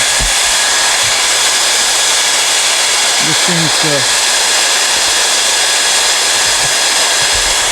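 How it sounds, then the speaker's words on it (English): Hair dryer blowing steadily on a Subaru WRX STI headlight to clear condensation, a loud, even high whoosh throughout, with a brief voice speaking over it. "Use a hair dryer."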